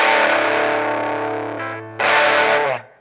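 A black Silvertone 1420 electric guitar, a small two-single-coil, four-knob model built by Harmony in Chicago, rings out loud, distorted chords: one long sustained strum fading, then a second sharp strum that holds briefly and cuts off.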